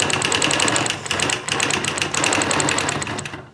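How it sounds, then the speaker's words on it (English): A sewing machine quilts a block along a ruler, stitching in a rapid, steady mechanical chatter, close and loud, with two short pauses where the needle stops before running on again. "we're quilting on the 1 to 3rd inch line"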